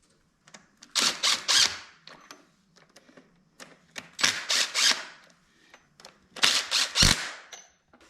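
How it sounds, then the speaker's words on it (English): Impact wrench driving bolts on a Volkswagen ALH TDI engine during a timing belt install, three loud close rattling bursts of hammering, each about a second long, separated by quiet pauses. "I'm just checking my impact, make sure it's drawn it down tight enough."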